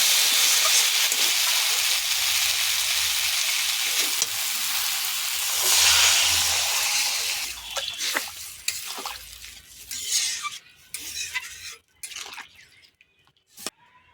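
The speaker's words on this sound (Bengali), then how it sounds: "এরকম করে কষে নিয়েছি এবার জল দেব" Water poured onto fried spices for a rohu fish curry, a loud sizzling hiss for several seconds that fades into softer bubbling, stirring scrapes and drips, close and continuous.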